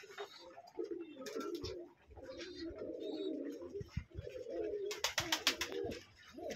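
Pigeons coo softly in a loft during morning feeding, a low continuous rolling murmur with short breaks and a few brighter rustles and flutters near the end.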